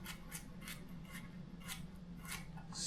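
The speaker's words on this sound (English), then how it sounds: "I just finished peeling the carrots, so now I'm just slicing them." Thin slicing of peeled carrots with a knife, a steady series of quiet crisp cuts repeating about every third of a second, faint and close with no talk.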